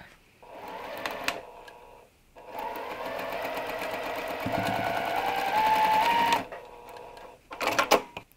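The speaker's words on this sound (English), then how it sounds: "I'm going to continue to sew, and I will just sew the straight edge on either side of this block" A sewing machine stitching quilt block seams runs in bursts, a steady mechanical whir with start-stop pauses between runs, close and clear with no talk.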